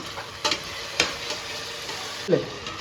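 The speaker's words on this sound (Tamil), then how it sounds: "தயிர் போட்டு அதுக்கப்புறம் வதக்கிக்கலாம்" Onions and mixed vegetables with curd being stirred and sautéed in hot oil for vegetable rice, with a steady sizzle broken by three or four distinct scraping stirs of a spoon against the pan.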